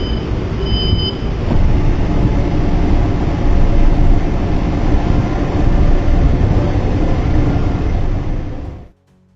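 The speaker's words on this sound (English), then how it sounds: "Train is about to move." Lynx Blue Line light rail train in Charlotte pulling away, a steady loud rumble of motors and wheels that holds for several seconds and then cuts off abruptly.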